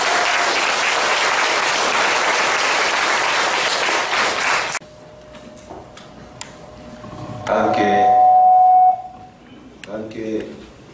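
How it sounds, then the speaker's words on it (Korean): A congregation claps loudly at a church memorial service, a thick wash of applause for several seconds that cuts off abruptly, followed by quieter room sounds and someone speaking. "박수 부탁드리겠습니다."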